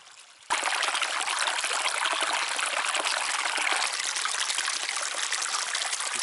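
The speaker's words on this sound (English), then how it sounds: "this is a small seasonal stream" A small seasonal stream on the Pacific Crest Trail runs in a close, steady rush of water that starts abruptly and continues loud and unbroken with no voices.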